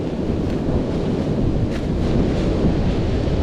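A rainstorm with thunder rolls in over a sandy beach campsite, a loud, steady broadband rumble like heavy rain and distant thunder, continuous and unbroken, with no voices.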